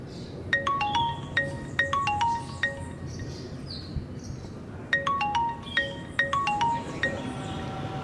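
A phone rings during an outgoing call: a melodic electronic ringtone plays in two repeating bursts over a steady low background hum, with no talking.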